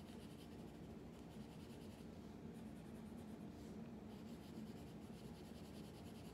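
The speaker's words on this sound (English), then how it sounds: "Then I'm gonna come straight to this one and color this one in." Colored pencil or crayon rubbing steadily across paper while a drawing is filled in by hand, a continuous close scratchy shading sound with no talk.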